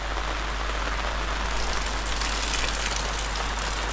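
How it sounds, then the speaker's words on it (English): Dense, steady torrential rain drumming on a tent roof while tent camping, a constant close hiss with no pauses and no voices. "Just sitting here watching the rain"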